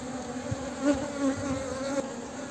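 Honeybees buzz steadily around a hive frame holding stored pollen and honey in a vertically expanded hive, a dense close drone with a few louder swells as bees pass near.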